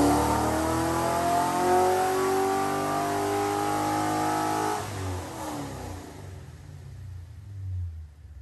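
An LS2-powered Pontiac GTO engine revs hard on a hub dyno, climbing in a loud sustained pull for about five seconds before dropping back to a lower, rumbling idle and a brief second swell.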